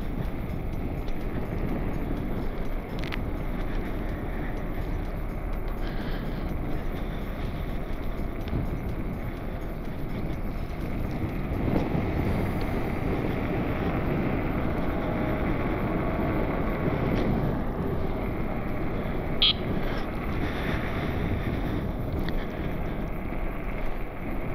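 Constant wind buffeting roars into the microphone while riding a YUME Y11+ electric scooter along a Minnesota trail in the cold, loud and unbroken throughout.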